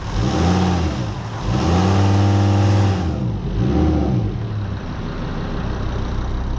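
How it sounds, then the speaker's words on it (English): Volvo XC70 D5 diesel engine revving up under throttle, a loud close rumble that climbs, holds, then falls back toward idle with a second smaller rise, no voices over it. "Give it a little bit of gas."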